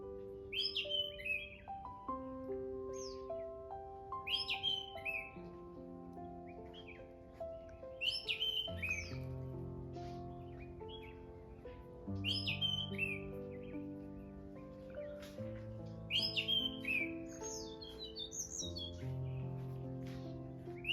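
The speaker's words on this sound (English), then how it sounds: "I heard the call of Tickel's blue flycatcher followed by an orange-headed" Birdsong on a forested hill trek at Brahmagiri near Trimbak: high, repeated bird calls and chirps in short phrases, heard over continuous instrumental music.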